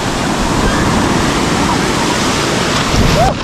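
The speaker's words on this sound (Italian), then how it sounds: "arrivano le mega onde e ti tirano dentro" Big sea waves crash onto a shore at Tenerife, a loud, continuous roaring wash of surf and spray that fills the whole stretch, with wind buffeting the microphone.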